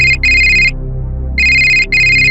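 A telephone rings in two long electronic bursts with a short gap between them, loud and clear with no talk over it, as the manager of an old-age home places a call to a daughter living abroad during a staged dance drama.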